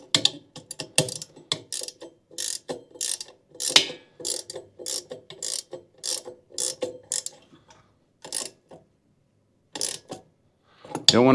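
A 17mm socket ratchet tightens the regulator into the cast aluminum body of a Porter Cable C2002 6-gallon air compressor, giving rapid close clicking bursts that pause, resume, and taper off with gaps near the end.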